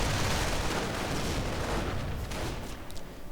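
Rifle fire in a World War strategy game as riflemen advance on grenadiers: a dense, continuous rumble of overlapping shots and distant booms, loud at first and thinning slightly toward the end, no talking.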